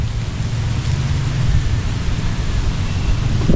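Strong wind at a beach with coconut palms, a steady loud roaring gust noise filling the clip from start to finish, with no clear talk over it.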